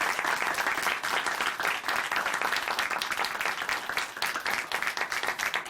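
A church audience claps continuously in a broad, steady wash of applause from many people, close and full for the whole stretch, with no talking.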